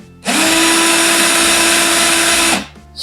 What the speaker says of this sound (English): Spin the drill, I'm done.